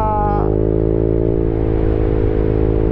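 A motorcycle fitted with a T4S exhaust pipe drones loudly at speed with a steady, throaty note and strong low harmonics, held near and unbroken for the whole stretch.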